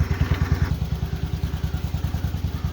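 Small tractor engine running with a steady, rapid chugging pulse, fairly close and loud, while it is unloaded from a folding Harbor Freight utility trailer tipped like a dump cart.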